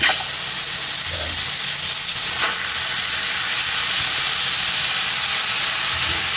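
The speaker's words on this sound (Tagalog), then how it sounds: "Ilalagay lang natin yung pork natin para matanggal yung taba." Pork searing in a dry wok with no oil, a loud steady sizzle and hiss that runs unbroken for several seconds, close up and with no talk.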